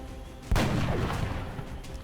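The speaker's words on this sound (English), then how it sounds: "let's keep taking pot shots with my sniper" A single sniper rifle shot in XCOM Long War, a loud sharp crack followed by a long rolling echo that fades out over about a second and a half.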